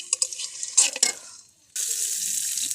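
Mustard flower mash being stirred in a pan, a few quick scraping strokes and clinks, then a pause before a steady sizzling hiss takes over.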